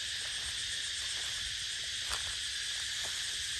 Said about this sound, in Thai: โอ้จักจั่นหลายลี